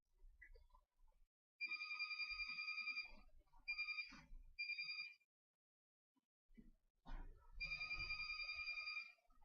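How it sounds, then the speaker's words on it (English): A mobile phone rings with bright, beeping electronic tones that repeat in bursts with short pauses, fairly faint. It sounds during a League of Legends session, with quiet background noise between the rings. "my phone's ringing"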